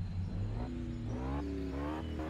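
Range Rover Sport engine in the video game Test Drive Unlimited 2, revving in several rising bursts with gear-like steps in pitch, a throaty simulated engine heard alone.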